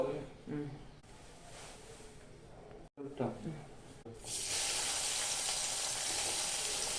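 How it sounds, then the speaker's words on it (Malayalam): Onions and green chillies sautéing in hot oil, a strong steady sizzle that swells in after a few seconds of quieter kitchen noise and brief talk. "സവാളയും പച്ചമുളകും ഇട്ട് കൊടുത്തിട്ടുണ്ട് അപ്പോൾ സവാളയും പച്ചമുളകും നന്നായി വഴറ്റിയെടുക്കട്ടെ"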